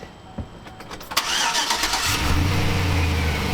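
A Sierra GT engine cranks briefly and catches, then settles into a steady, close idle with a low rumble.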